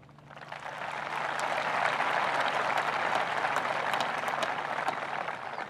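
Audience applause at a high school graduation ceremony, swelling in after a moment into steady, dense clapping that holds for several seconds before easing slightly, with no voices over it.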